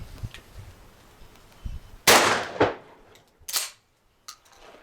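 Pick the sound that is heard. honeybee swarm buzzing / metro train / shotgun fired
shotgun fired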